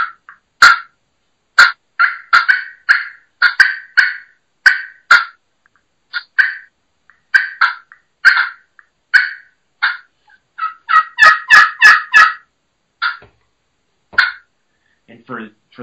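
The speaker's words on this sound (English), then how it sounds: "do some clucking on a friction, on a pot and peg" Hen turkey clucking made on a pot and peg friction call, a striker on a slate-type surface: a long run of sharp, separate clucks at an uneven pace, bunching into a fast burst near the end, close and clear with no talking.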